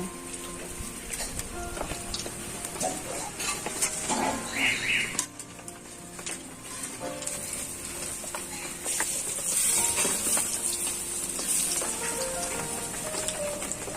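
A steady crackling sizzle of fritters frying in hot oil runs throughout, with faint voices and clatter in the background.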